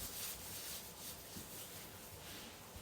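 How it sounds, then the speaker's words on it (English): Soles of bare feet rub together in a quiet, continuous swishing friction with a gentle back-and-forth rhythm. "You could even rub the soles of your feet together too if you want to."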